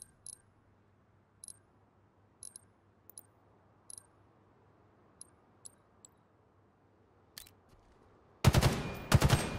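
Gunfire in the shooter game Halo Infinite: sparse single shots pop at intervals over a low steady hum, followed by a sudden loud burst of rapid firing near the end.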